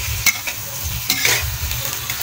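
A shrimp and tofu dish is stirred in a frying pan, with a steady sizzle broken by several sharp scraping strokes of a spatula against the pan.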